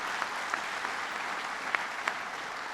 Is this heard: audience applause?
yes